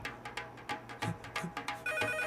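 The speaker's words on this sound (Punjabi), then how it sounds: "ਆ ਫੋਨ ਚੱਕੋ" A telephone ringtone plays a repeating rhythmic run of bright electronic tones indoors, clear and fairly close, with no talking over it.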